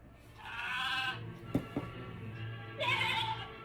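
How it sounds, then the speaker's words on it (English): Two drawn-out sheep bleats, a short pause between them, with a couple of faint knocks in the middle; fairly quiet. "Sound like sheep to me."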